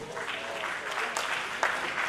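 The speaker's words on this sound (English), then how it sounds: "Give yourselves a big round of applause." Conference audience applauding in a large hall at the opening of a tech event, a steady, dense wash of clapping sustained across the moment at moderate loudness, with a few sharper claps standing out.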